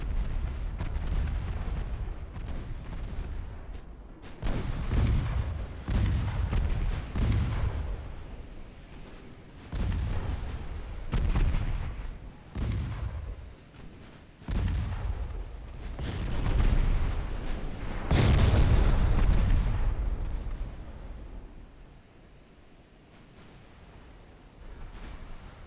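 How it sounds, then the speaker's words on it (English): Battleship guns firing in the naval strategy game Ultimate Admiral Dreadnoughts, a long run of deep booming salvos and rumbling impacts rolling one after another, some loud and close, others fainter. "Deutschland returns fire."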